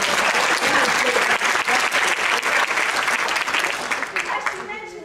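A live audience gives a loud, enthusiastic round of applause for Sue at a speaking event, dense clapping with some crowd voices that tapers off near the end.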